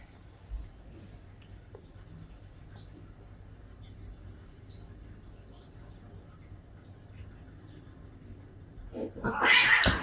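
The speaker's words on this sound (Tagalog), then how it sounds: "Nay, may pusa." A cat lets out a sudden, loud, close meow near the end, after a long stretch of faint, quiet background.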